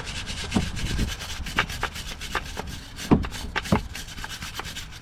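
A brake caliper from a 2011-2024 Infiniti QX80 is scraped clean by hand during a front brake job, giving a series of short, irregular rasping strokes up close at moderate volume.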